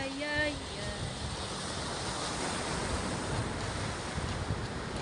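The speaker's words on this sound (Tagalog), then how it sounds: "Ang sarap po ng hangin." Steady outdoor wind rushes and buffets the microphone during a morning jog, a continuous close roar that stays loud throughout, with a brief voice at the very start.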